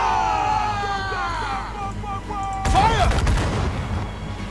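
Ship cannon fire in the video game Assassin's Creed Freedom Cry: a heavy booming volley erupts after a stretch of background music and chatter, then rumbles on under voices.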